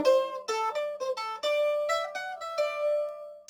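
Smooth, gentle mandolin strumming with a lightly held pick, a run of clear, ringing chord strokes changing pitch every half second or so, close and alone with no talk.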